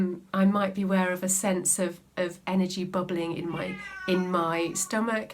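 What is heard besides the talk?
cat meowing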